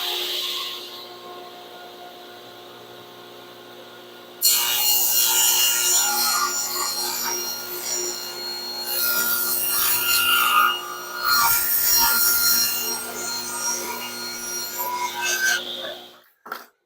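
Power saw cutting through a wooden board for a simple shop shelf, the motor whining alone before the blade bites, then a loud sustained rasping cut with shifting pitch that ends abruptly as the saw stops.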